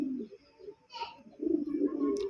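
Rajgolla pigeons cooing softly, low throaty murmurs rising and falling, close and quiet with brief pauses between calls.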